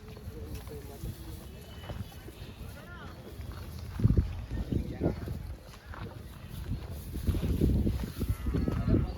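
Calf at the Chunchanakatte cattle fair, with moos rising over busy crowd chatter and nearby voices, loudest in the second half amid general livestock-market bustle.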